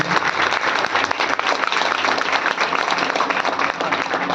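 Audience clapping at a Hindu devotional gathering at the Maa Chamunda Bijasan Tekri shrine in Mahidpur, India, a thick continuous wash of many hands, loud and steady throughout.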